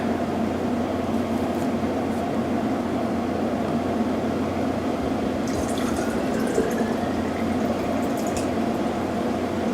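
Drinking water poured steadily into a container, a continuous filling rush lasting several seconds at close range, with no talking.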